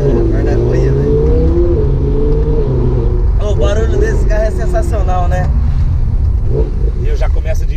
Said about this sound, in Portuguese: O barulho desse carro é sensacional, né?